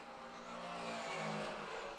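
A race car at Laguna Seca approaches and passes on the straight, its engine note swelling and fading over about two seconds, heard faintly from a distance.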